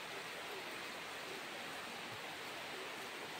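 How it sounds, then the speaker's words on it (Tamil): Steady rain falls outdoors as a continuous, even hiss, moderately loud and unbroken, with no voices over it. "இன்னும் மழை பெய்யுது பாருங்கள்."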